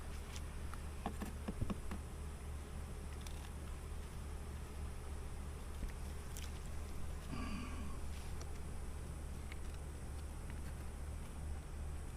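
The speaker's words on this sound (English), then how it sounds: "We'll shake these bees out of the top into the bottoms" Honey bees from hive boxes and nuc boxes droning in a steady buzz, with individual bees passing near now and then over a constant low hum.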